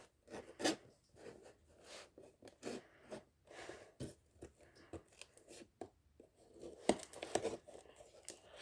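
A package of 18×180 test tubes is cut and torn open at close range, with bursts of ripping, crinkling plastic and scissor snips coming in uneven clusters, quiet overall with short pauses between cuts.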